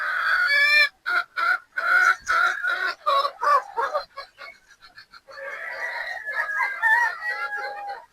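Young pullets, three-quarter Sweater and one-quarter Boston gamefowl at a game farm, cluck and squawk close by in bursts, with short pauses and a stretch of overlapping calls.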